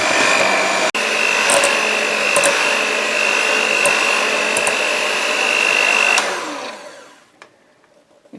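An electric mixer whirs loudly and steadily for about six seconds, beating butter, sugar and ten medium eggs into a creamy carrot cake batter, with a brief clatter before the motor winds down and stops into near silence.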